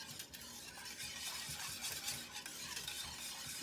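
A spiced latte with nutmeg and allspice is whisked in a pan, a soft continuous rapid swishing and light scraping at low volume, heard alone without speech.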